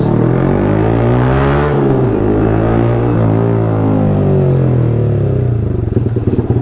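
A motorcycle with a loud aftermarket exhaust rumbles steadily while riding, its engine note rising and falling with throttle changes. The exhaust sounds close and loud, with a brief dip and recovery midway and no talk over it.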